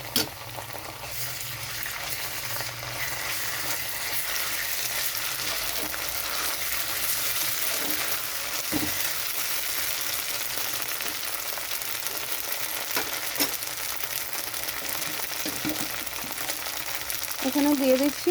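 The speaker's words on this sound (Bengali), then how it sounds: "পেঁয়াজটা একটু ভাজা হয়ে গেছে, এখানে আমি দিয়ে দিচ্ছি আদা রসুন বাটা" Onions frying in oil with ginger-garlic paste, a steady close hiss of sizzling with occasional stirring scrapes, a voice talking faintly underneath.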